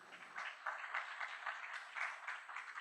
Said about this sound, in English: Give Jeff a round of applause, please